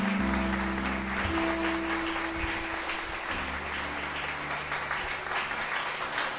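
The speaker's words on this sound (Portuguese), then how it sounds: "Pode aplaudir o Senhor Jesus." Church congregation applauding at a service, a dense wash of clapping heard fairly near, with sustained low keyboard or organ tones holding underneath.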